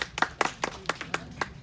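An audience claps in an even, rhythmic beat, seven or so distinct claps close by.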